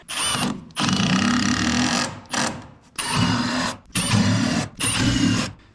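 Power drill driving construction screws into a floor during a structural floor repair, in five long whirring bursts separated by short pauses, loud and close with no talk.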